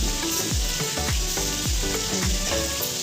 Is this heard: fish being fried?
yes